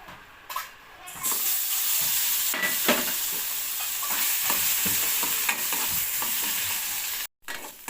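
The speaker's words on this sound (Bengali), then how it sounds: "এবার আমি এটা দিয়ে দেবো কড়াইতে, দিয়ে একটু নেড়ে নেব।" Paste of kharkol leaves with salt and turmeric frying in hot oil in a wok, stirred with a steady loud sizzle and the scrape of the spatula throughout, with a brief cut near the end.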